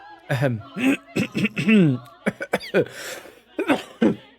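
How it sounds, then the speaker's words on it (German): A man coughs in a few rough bursts, with throat-clearing and breathy, laugh-like sounds between, close and fairly loud. "Sorry, jetzt habe ich wirklich gehustet, Mann"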